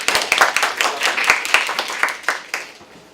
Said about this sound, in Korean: 크게 박수를 쳤네요.